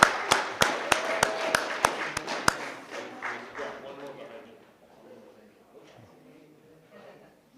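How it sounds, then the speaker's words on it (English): A school board meeting audience gives a short round of applause, a few evenly spaced claps that quickly thin out and fade into quiet room murmur. "Let's give him a good rousing round of applause"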